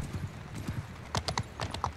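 Horses galloping in Mount and Blade Bannerlord, hooves striking in quick, uneven clusters that grow louder and closer toward the end, with no voices.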